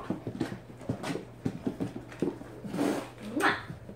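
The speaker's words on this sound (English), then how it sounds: "He's a happy puppy." A seven-week-old puppy gnaws on an arm, producing soft irregular chewing and snuffling sounds close by, with a few thin whimpers and squeaky whines toward the end.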